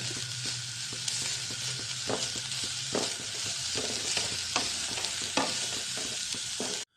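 Oil-free pepper chicken sizzles steadily in a pan while a spatula stirs it, giving a string of sharp scraping taps over the continuous frying hiss.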